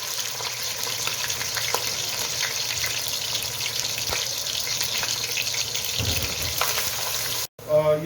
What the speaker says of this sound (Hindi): ऑयल गर्म हो गया, अब मैं इसमें प्याज डाल देता हूँ।